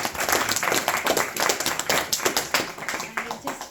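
A small group at a Bhagavad Gita study gathering claps in a brief round of applause, uneven, close-sounding hand claps that keep going for a few seconds with voices mixed in.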